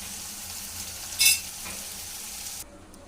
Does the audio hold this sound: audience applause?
no